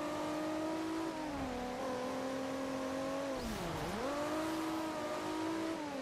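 A car drifting in the racing game Forza Horizon 2, the engine droning steadily at high revs with shifting pitch and a dip as it slides through a turn, loud and continuous with no voices.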